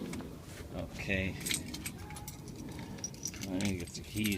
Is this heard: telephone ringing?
no